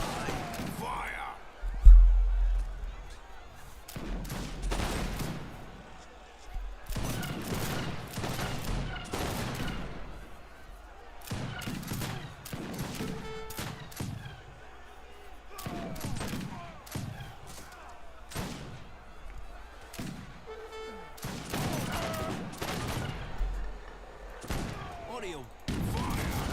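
Scattered musket volleys and sharp shots pop amid an Age of Empires 3 battle, fairly close and irregular, with game unit voices calling out orders between the bursts.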